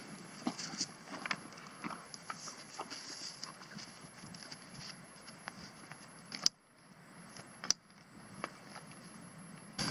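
Hooves clop steadily on hard ground as horses walk at an unhurried pace, with a few louder knocks and jingling sounds close by.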